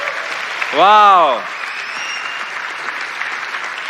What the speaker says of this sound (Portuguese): dá mais um aplauso para Ele